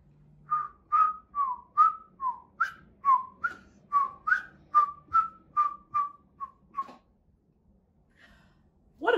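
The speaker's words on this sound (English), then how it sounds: "He whistled all the way there, and he whistled all the way home." A person whistles a bouncy tune of about fifteen short, evenly spaced notes, clear and close, before trailing into quiet.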